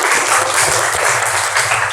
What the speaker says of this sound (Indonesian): beri tepuk tangan dulu kepada Fahri.